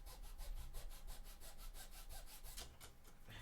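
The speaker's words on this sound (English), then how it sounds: "My triangle sanding." Triangle sanding on a cosplay chainsword gives quick, rhythmic back-and-forth rasping strokes, close and fairly faint, with a regular repeating pulse throughout.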